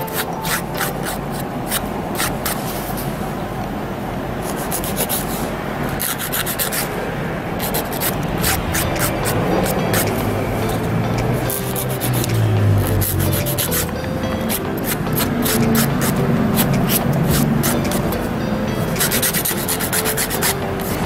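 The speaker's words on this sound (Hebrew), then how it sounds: "ממש שיוף עדין. אין צורך כרגע לשייף יותר מדי." A file gently buffs fingernails before a dip gel manicure, making a continuous, close, soft rasping that runs steadily with quick back-and-forth strokes throughout.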